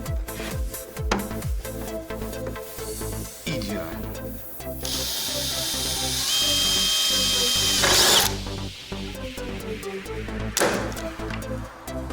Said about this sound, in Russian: Зинкорнем вот здесь отверстие, подгоним, и будет все четко.